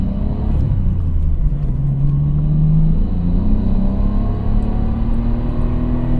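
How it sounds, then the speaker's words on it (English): A Nissan GTR V Spec R33 Skyline pulls away in first gear, its engine rumbling loud and close with a rising rev pitch that climbs and settles into a steady drone. "Got to get used to that first gear launch."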